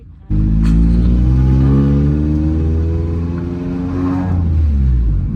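Honda VTEC car engine revving hard through an acceleration pull, a loud steady roar rising in pitch for several seconds with no talking.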